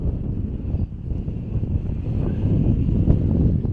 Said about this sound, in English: it's windy. I think this wind's come direct off the sea, over the mountains.